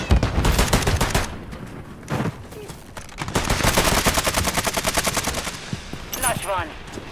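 Rapid machine-gun fire in a Call of Duty military shooter, long bursts of fast, evenly spaced shots alternating with heavier blasts, loud and close, with brief radio-style talk between bursts.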